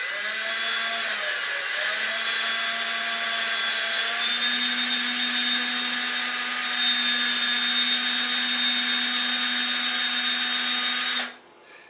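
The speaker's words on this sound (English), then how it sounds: "I'm going to hand hold this drill. I'm going to line up the head of the bit in the head of the rivet" Hand-held power drill boring out a pop rivet head on a bike rack, a close, steady high-pitched whine that holds for about eleven seconds, then stops abruptly.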